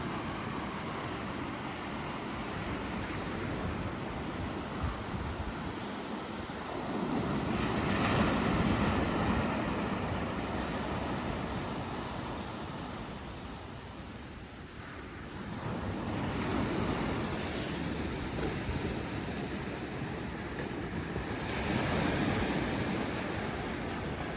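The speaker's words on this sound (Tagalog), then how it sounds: "Pakinggan mo ang alon. Ang hampas sa dalampasigan." Ocean waves surge and crash on the shore in long, slow swells, mixed with gusts of wind against the microphone.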